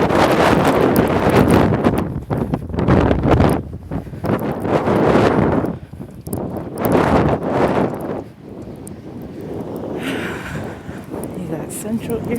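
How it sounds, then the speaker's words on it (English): Strong wind during a Chicago blizzard roars and buffets the microphone in loud gusts that rise and fall across the whole stretch, with a brief lull near the end. "As you can hear, it's windy."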